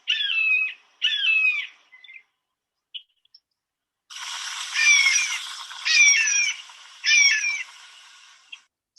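Blue jay imitating a hawk call, recorded outdoors: two screechy calls, then a short faint pause, then three longer hawk-like screams over a noisy hiss, rather less harsh than a real hawk.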